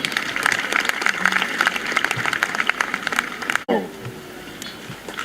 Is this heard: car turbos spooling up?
no